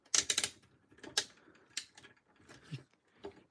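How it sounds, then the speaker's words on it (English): Shoulder joints on a Mastermind Creations Nimbus transforming robot toy click through their ratchets in several short bursts, a quick cluster of sharp plastic clicks at the start followed by isolated ticks, close and fairly quiet with no talking. "His shoulders are nicely ratcheted. You can hear that."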